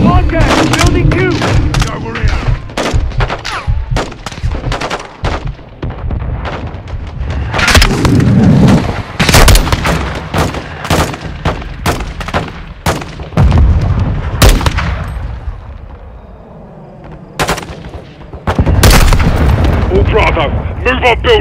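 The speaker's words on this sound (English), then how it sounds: "Crash site is taking rocket fire from building two!" Rocket and gunfire in Call of Duty: Modern Warfare 2 on realism difficulty: loud, close bursts of rifle fire and heavy thudding impacts in dense, irregular volleys, with a quieter lull before the shooting resumes, under shouted radio chatter.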